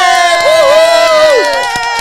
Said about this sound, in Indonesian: Berikan tepuk tangan sekali lagi untuk the one and only Vina Vina Filipe.